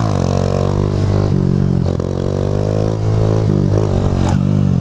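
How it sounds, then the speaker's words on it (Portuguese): A Honda Titan 150 motorcycle's engine revs hard and steadily in second gear during a wheelie, close and loud, with brief dips in pitch as the throttle eases and picks up again. "Mano, é muito massa empinar de moto também."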